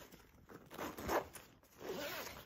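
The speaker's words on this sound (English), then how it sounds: "your zipper, which is very smooth" A smooth zipper opening on a Kipling Kichirou lunch bag: a continuous close, fairly quiet scraping zip run in a few pulls, with no talking.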